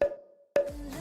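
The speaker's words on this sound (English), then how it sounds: "It sounds like a bottle or some kind of weird woodblock" Two short, hollow tonal percussion hits like a struck bottle or odd woodblock, each a sharp pitched knock with a brief ringing tail, the second followed by other sound.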